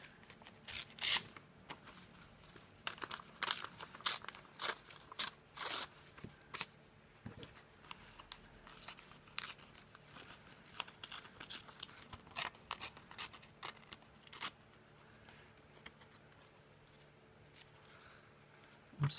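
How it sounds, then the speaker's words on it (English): Paper torn by hand in short bursts around its edge for a crafted envelope pocket, a run of close, crisp rips and rustles with brief pauses between them. "I want to rip around the edge of the paper"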